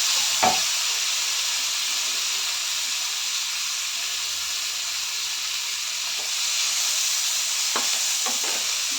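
Tomato frying in a pan for jawali kai palya gives a steady, loud sizzle and hiss, with a few brief clinks from stirring and no talking.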